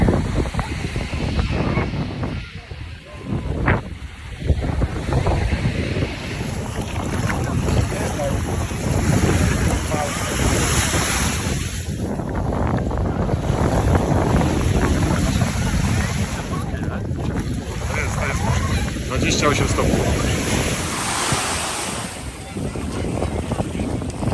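Strong wind buffets the microphone on a seaside beach while sea waves roll and wash in, a loud continuous roar with gusty surges throughout and a person talking at times beneath it.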